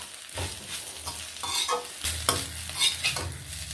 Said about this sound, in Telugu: దగ్గరుండి కొంచెం ఇలా కలుపుతూ వేయించండి గోంగూర.